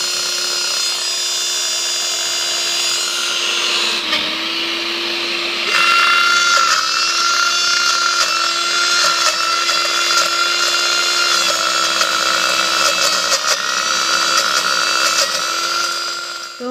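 A juicer jug grinds carrots for carrot halwa, running as a loud, steady whirring motor drone for the whole stretch, its pitch dipping briefly once and then holding on continuously.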